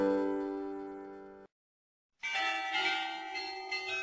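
A carillon in the modern belfry of Péronne's rebuilt town hall rings out, a sustained bell tone decaying away, a short silence, then a dense, bright peal of several bells sounding together.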